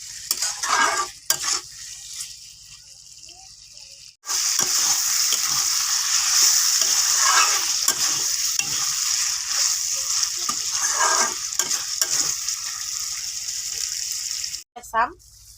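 Pigeon meat fries in a pan, giving a loud, steady hiss and sizzle of hot oil with occasional stirring scrapes, cut off briefly early on and again near the end, with a voice talking over it at times.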